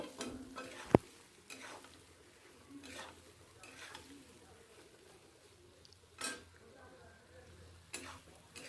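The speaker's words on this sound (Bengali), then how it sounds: "ভালো করে মশলাটা কষিয়ে নেব" A spice paste is stirred and sautéed in a pan, with soft scraping strokes in an irregular rhythm, one sharp metallic clink near the start, and a faint sizzle underneath, all fairly quiet.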